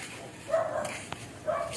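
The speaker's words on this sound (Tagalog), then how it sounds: "Ayan na, tumatahol yung mga aso ron." Dogs barking at a distance outdoors, a few sharp barks and yips spaced apart, moderately loud against quiet background.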